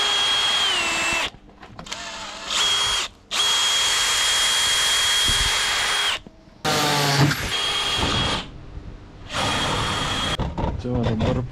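A power drill boring bolt holes in parts for a buggy: several loud, whining bursts of drilling separated by short pauses, close by.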